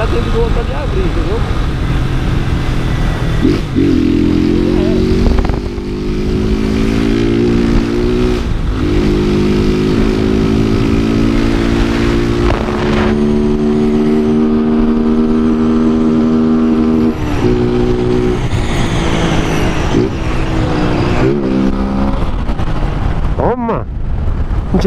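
A Fan 160 delivery motorcycle riding through traffic, its engine droning and revving steadily up close for the whole stretch, with shifting pitch as it accelerates, while the rider talks over it.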